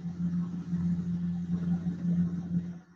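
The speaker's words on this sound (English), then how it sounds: "it sounds like someone's sitting out in traffic" A low, steady traffic rumble hums faintly in the background, like idling or slow-moving vehicles, continuous and even with no distinct passes.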